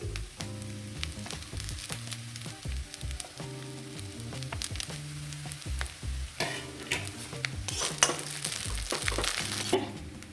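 Egg chow mein is stir-fried in a pan with cooked onions and fried egg, with bursts of sizzling and tossing scrapes under steady background music and no voices.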